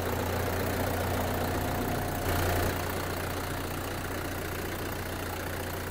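A Guard World WD 754 tractor hitched to a cultivator runs with a steady, loud, low engine drone that holds an even throb throughout, briefly swelling a little midway, with no voices.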